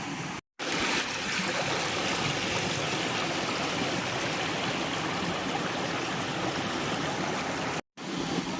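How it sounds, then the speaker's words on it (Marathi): Spring water runs in a steady, continuous gurgling stream near a Konkan temple in Dapoli, fairly close and unbroken except for two brief cuts. "इथून ते पाणी येतंय"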